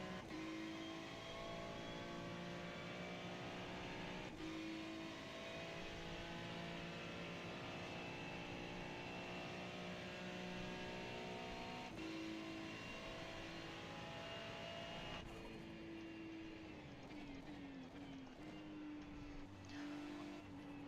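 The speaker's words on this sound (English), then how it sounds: "I love the turbo noise when you lift off to do a bit of lift and coast" Race car in the iRacing sim at Petit Le Mans, a steady engine drone with shifting tones and repeated lifts off the throttle, plus a sharp change near the end as the engine note drops.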